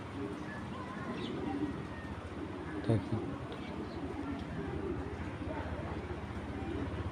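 Black checker racing pigeons give low, steady cooing close by, while someone speaks briefly over the birds.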